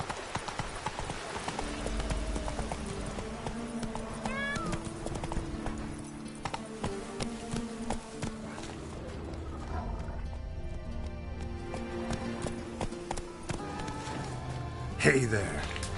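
Horse hooves clip-clop steadily in The Witcher 3, a rhythmic trot running throughout under game music and ambience, with a brief louder burst near the end.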